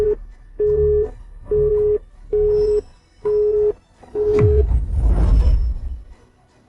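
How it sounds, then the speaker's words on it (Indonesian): Telephone busy signal on an unanswered call: six evenly spaced beeps in a steady on-off rhythm, clear and close, followed by a burst of muffled rustling noise with no talking. "Pak Zonal nggak bisa angkat telepon."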